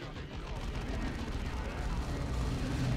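A deep, rumbling blast from a grenade thrown into a house in the Warhammer 40,000 strategy game Dawn of War 2, a steady low roar lasting about three seconds at moderate level.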